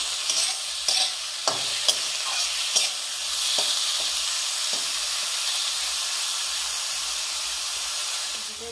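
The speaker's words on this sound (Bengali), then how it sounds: "পেঁয়াজ কলিগুলো দিয়ে দেবো।" Onion pieces stir-fry in a hot pan for chowmein, giving a steady bright sizzle with several sharp scraping stirs early on, then continuous frying hiss throughout.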